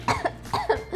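Several short coughs in quick succession, close and fairly loud, with throat-clearing quality, no other sounds around them.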